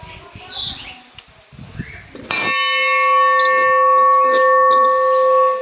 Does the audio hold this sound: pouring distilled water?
no